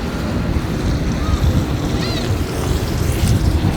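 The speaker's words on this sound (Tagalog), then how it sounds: "And then ito yung dagat." Sea waves roll near Debudo Island, a loud continuous wash of surf mixed with heavy wind buffeting the microphone, with faint distant voices or calls in the background.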